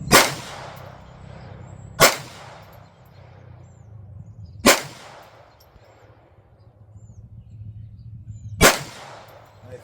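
Kel-Tec P32 and P17 pistols fire four sharp, loud single shots spaced a couple of seconds apart, each cracking report trailing off in an outdoor echo over a low background rumble.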